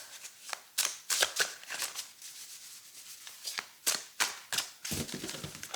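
Tarot cards being cut and shuffled by hand, with sharp riffling snaps and soft sliding rubs in irregular bursts, close and clear.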